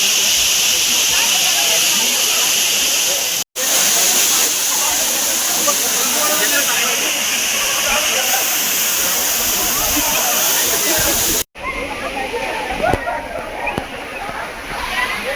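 Bhivpuri waterfall roars in a steady, loud rush of falling water, broken by two abrupt cuts, with a faint voice now and then beneath the torrent.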